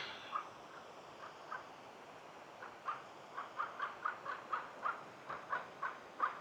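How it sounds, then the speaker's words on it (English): A crow caws repeatedly along a hiking trail in the Castanea boulder field area, a series of harsh, fairly close calls coming in quickening bursts against a quiet outdoor background. "Mr. Crow."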